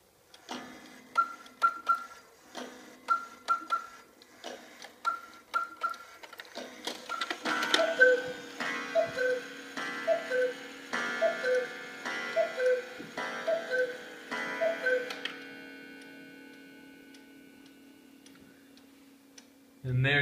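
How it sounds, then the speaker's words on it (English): A Black Forest cuckoo and quail clock by Johann Baptist Beha, in a model 673 case, strikes. Repeated two-note quail calls mark the quarters, then a run of cuckoo calls with gong strikes counts out seven o'clock, and the clock's steady ticking continues afterward. "And there you have a magnificent cuckoo and quail in a model 673 case by Johann Baptist Beha."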